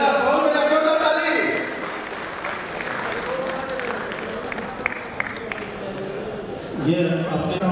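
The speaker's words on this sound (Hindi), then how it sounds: "जोरदार ताली।" Loud, sustained applause from a big crowd at an outdoor event in Lucknow, dense clapping that swells at the start and end while an announcer's voice carries over it.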